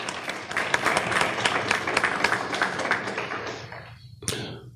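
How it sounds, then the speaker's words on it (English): An audience at a West Indian social club candidates forum applauding with dense clapping that thins out and stops after about four seconds, followed by a brief sharp knock, with no talking over it. "I'd like you to give him a round of applause"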